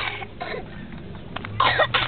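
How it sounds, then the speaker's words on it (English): A couple of rough throaty coughs close by, the louder one near the end, with faint background noise. "Nice cough."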